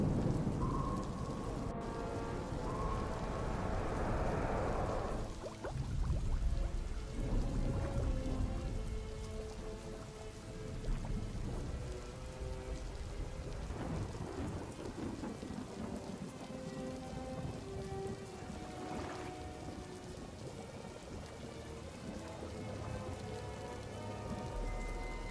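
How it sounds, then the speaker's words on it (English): Steady heavy rain pours throughout with deep rolling thunder in the first seconds, a continuous dense storm wash with no voices. "we've got a storm moving in"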